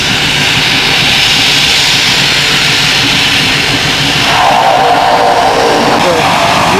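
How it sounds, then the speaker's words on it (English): A West Coast float plane's engine drones loud and close in Victoria harbour, a steady roar that swells and brightens about two-thirds of the way through, with no talking over it. "This is a West Coast plane."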